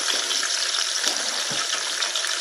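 Fajita vegetables with a squirt of lime juice hiss steadily in a hot pan, a close, continuous bright sizzle with no voices.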